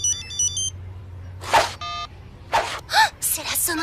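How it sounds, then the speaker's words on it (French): The Red Button ringtone: beeping phone tones open the clip, followed by short electronic ringtone bursts mixed with breathy gasps and vocal sounds. "C'est la sonnerie de Red Button."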